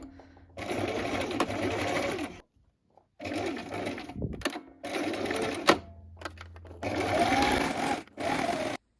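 A sewing machine stitches a fully lined jacket in several long bursts of fast, even whirring, separated by short pauses, close and moderately loud with no speech.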